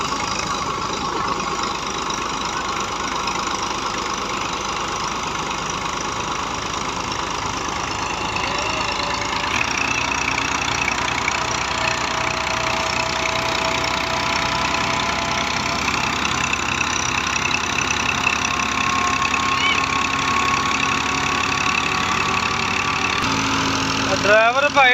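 A Massey 240 tractor engine runs steadily driving a wheat thresher in a field, a dense continuous mechanical roar with rattling machinery throughout, getting slightly louder partway through.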